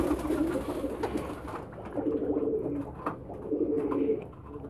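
Pigeons coo in low, throaty phrases while bathing in water in winter, two clear rounds of cooing at close range over a soft, busy background.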